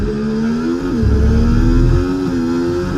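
An F1 car in the EA Sports F1 video game, racing the Baku street circuit in Azerbaijan, holds full throttle with a loud, steady engine drone that dips briefly and then climbs again. Nobody speaks.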